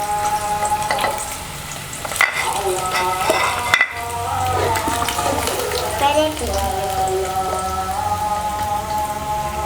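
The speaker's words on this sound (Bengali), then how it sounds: "ডিম এবং আলু ভাজাটা কমপ্লিট।" Eggs and potatoes frying in hot oil in a home kitchen, a steady crackling sizzle with scattered pops and utensil scrapes running throughout at close range, with a few faint voices in the background.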